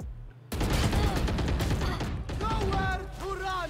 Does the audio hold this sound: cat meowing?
no